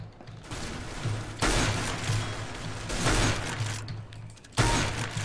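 Dense, continuous bursts of video game gunfire rattle throughout, swelling in loud waves with sharp onsets, over a steady low electronic hum.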